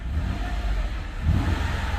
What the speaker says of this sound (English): Car revs up beautifully